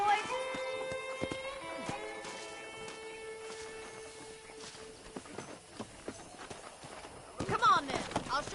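Saddled horses walk with steady clip-clopping hooves in the video game Red Dead Redemption, mid-distance, over game music, with a louder burst of hoofbeats near the end.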